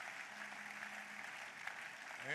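Faint, steady applause from a church congregation during a midweek service, distant and continuous, with a brief rise at the very end.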